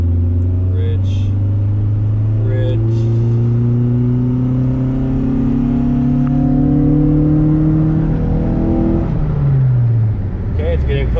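A street-tuned car accelerates hard in a third-gear pull on the road, its engine note climbing steadily and loudly before backing off near the end, with voices talking briefly over it.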